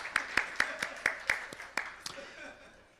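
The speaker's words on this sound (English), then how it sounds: "Clap, clap, clap, clap." A class audience at a spiritual talk claps together in a quick, steady rhythm, about seven crisp claps in a row, then trails off into a couple of scattered ones and quiet.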